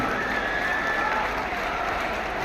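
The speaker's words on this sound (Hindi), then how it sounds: "तालियों की आवाज आपकी मंच तक आनी चाहिए, भरपूर आनी चाहिए" Dense, steady applause from a ceremony audience at a Delhi slum rehabilitation event where flat keys are handed to residents, filling the whole stretch at an even, full level.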